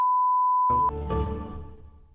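A steady electronic beep sounds alone on a bank's automated phone menu, then cuts off as muffled noise and a recorded voice prompt begin on the call.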